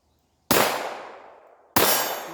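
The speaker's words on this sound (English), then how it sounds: "let's fire a couple of shots with these two guns" Two sharp, loud gunshots from a revolver and a semi-automatic pistol fired in a jamming test, each crack followed by a long ringing decay, spaced about a second apart with no talk.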